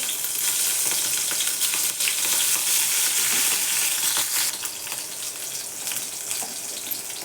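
Chopped green chillies and cumin sizzle in hot ghee, a dense continuous crackling hiss with scattered pops, close and steady with no voices.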